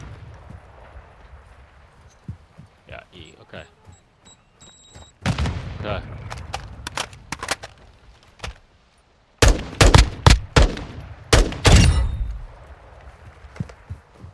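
Gunfire in the video game Call of Duty Warzone: scattered single shots early, then dense bursts of loud rapid fire and booms in the second half, with quiet gaps between volleys.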